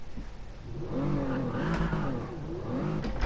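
A car drifting in Gran Turismo 7, its engine revving in a steady, throaty drone that rises and falls as the throttle is worked, loud and close with no talk over it.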